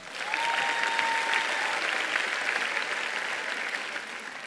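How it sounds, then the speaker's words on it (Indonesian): A large audience at an Indonesian climate event applauds steadily, a continuous wash of clapping filling the hall throughout, with no speech over it. "Mari kita berikan tepuk tangan."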